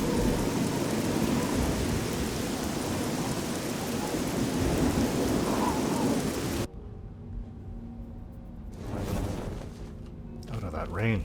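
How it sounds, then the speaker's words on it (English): Thunderstorm in the video game Oblivion, set in Cyrodiil: steady heavy rain roars for several seconds, then cuts to a quieter patch where low rumbles of thunder and softer rain continue, with a voice talking over it. "We've been having this storm all day, at least down that part of Cyrodiil."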